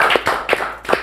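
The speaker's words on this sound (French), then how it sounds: "Je pense qu'on peut l'applaudir." A few sparse hand claps in rhythm, about four distinct sharp claps close by, for a game show winner's small studio audience, with no talk over them.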